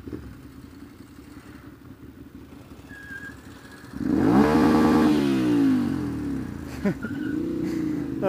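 A Chevrolet Monte Carlo SS revs hard and spins its tires in a burnout, a loud close engine roar rising sharply from a quieter idle and holding with squealing, wavering pitch until the end.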